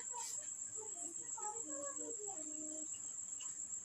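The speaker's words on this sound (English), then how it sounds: "the grasshopper, hiding itself into bushes and meadows, sings very joyfully to fill nature with music" A steady, high, continuous chirring trill of a grasshopper in bushes or meadow runs unbroken throughout, fairly close, while a voice speaks faintly underneath.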